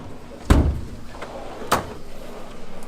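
The screwdriver drawer of a mechanic's toolbox slides open with two distinct metallic thuds about a second apart, close and fairly loud over quiet background.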